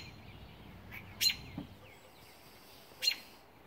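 A pet bird gives a few brief, high chirps indoors, faint and scattered across a quiet room with no voices.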